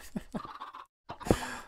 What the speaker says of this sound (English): There are so many chickens.